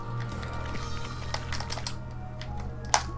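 A computer keyboard being typed on during a Super Meat Boy speedrun, scattered soft key clicks over a low hum, with one sharper tap near the end.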